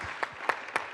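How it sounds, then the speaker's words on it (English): Brief audience applause at an evening community event, heard as a few scattered sharp claps rather than a full ovation, fairly faint with no talk over it. "Please join me in giving these gentlemen a round of applause."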